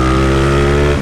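A Honda Today motorbike fitted with a 351 cc engine revs hard and steady close by, its loud buzzing engine note holding one pitch before cutting off abruptly at the end.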